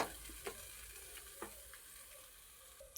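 Carrot paste cooking in a pan, stirred with quiet scraping strokes over a faint, steady sizzle; soft, close and without any talking.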